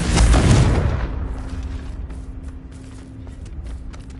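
A Confringo spell explosion in Hogwarts Legacy, a single loud fiery boom at the start that rumbles and fades into quieter ambient hum and faint footsteps.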